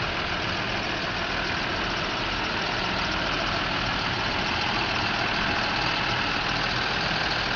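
A large six-cylinder 8.7-litre diesel engine on an Action 900-series tractor idles with a steady, loud, even rumble, unchanging throughout and heard up close.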